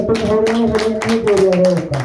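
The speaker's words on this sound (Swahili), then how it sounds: "Wacheni tupigie Bishop makofi wakati anakuja." Congregation clapping to welcome a bishop as he comes forward at a church service, a steady patter of hands under sustained voices or singing.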